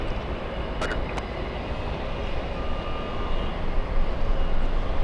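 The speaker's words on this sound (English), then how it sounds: "The A350 to Shanghai, departing at 126." Airbus A350 departing Los Angeles International for Shanghai, a broad jet roar with a thin engine whine that swells louder toward the end, with a couple of brief clicks early on.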